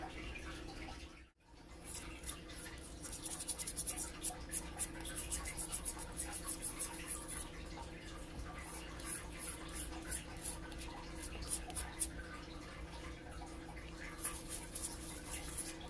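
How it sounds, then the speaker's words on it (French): Steady, close brisk scrubbing of a small toothbrush against a stone, continuous with a short pause near the start, no voices. "Avec la petite brosse à dents."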